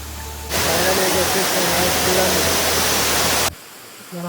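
Water rushing at the Yellandu seven wells waterfall, a dense, loud, even roar that starts abruptly, holds for about three seconds and then stops, with a voice faintly heard before it.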